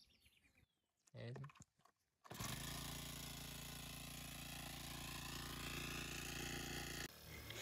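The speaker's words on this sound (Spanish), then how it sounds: "lo primero que vamos a hacer es prender la bomba y revisar que todo esté funcionando perfectamente" A motorized fumigation pump sprayer for coffee crops gives a few short pull-start rattles, then its small engine catches and runs at a loud, steady drone for several seconds before cutting back.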